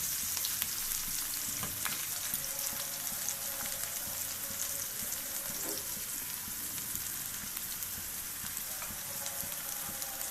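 Chopped banana stem fries in a pan with a steady, fairly quiet sizzling hiss and occasional faint stirring clicks, no voices.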